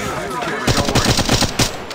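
Rapid automatic gunfire from a mobile battle royale shooter, Apex Legends Mobile, bursting in after a quieter opening and rattling on steadily for over a second, loud and close with faint game voice under it.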